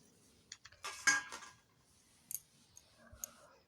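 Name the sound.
grating potatoes with a hand grater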